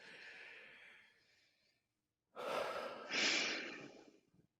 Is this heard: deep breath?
yes